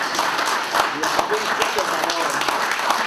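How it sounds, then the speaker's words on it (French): Applause for Jacques at a press conference: a steady, dense patter of clapping that lasts the whole stretch, with voices talking over it. "Une bonne main d'applaudissement pour mon ami Jacques"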